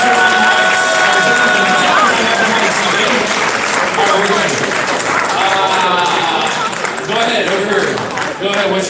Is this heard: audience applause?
yes